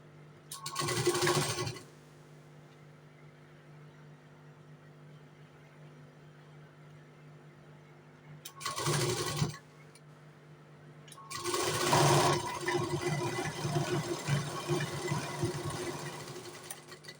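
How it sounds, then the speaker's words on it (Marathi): A sewing machine runs a straight seam on a blouse in three separate bursts: a short close whir, a second brief run, then a longer steady stretch of stitching, with quiet pauses between. "ते मार्क करून स्ट्रेट शिलाई मारूया"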